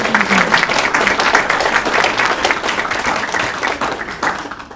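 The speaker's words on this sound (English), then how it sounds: "Can I give an applause for all of our" An audience applauding presenters at a community youth mental health event, brisk and fairly loud clapping sustained throughout.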